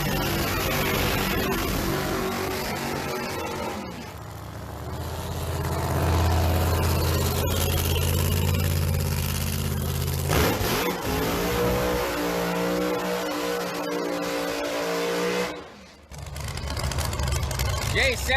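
A drag racing car launches up onto its wheelie bars and rattles its tires, its loud engine revving and roaring near and steady with a brief dip near the end, under commentary throughout.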